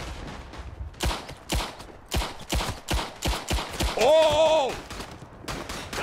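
C96 pistol shots ring out in the World War I trench shooter Verdun, a string of sharp, loud cracks in uneven bursts, with a brief voice exclaiming and a tonal in-game sound midway.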